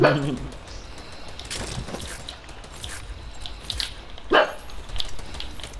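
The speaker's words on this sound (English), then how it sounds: "stop barking" A dog barks indoors in a few sharp bursts, a loud one at the start and another a few seconds later, with quieter background sounds between.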